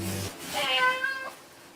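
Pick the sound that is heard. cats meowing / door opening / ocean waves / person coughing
cats meowing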